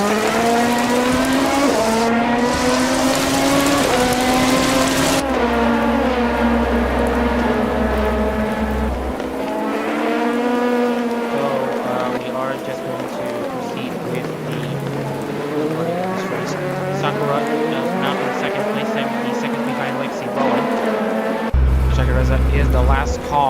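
Race cars at the Motegi 5 Hours endurance race roar continuously with rising and falling engine pitch as they pass through gear changes, loud and close, while a commentator talks over the engines.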